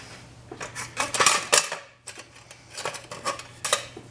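A small 7-ounce can being opened in a kitchen, a series of sharp metallic clicks and clanks with a brief pause in the middle, close and fairly loud against a faint background hum.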